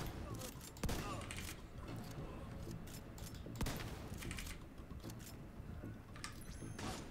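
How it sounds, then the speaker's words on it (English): Turret fire in the shooter game The Division 2, scattered bursts of rapid shots with a few heavier bangs standing out against a busy game soundscape, while a player talks now and then. "The turret actually hits."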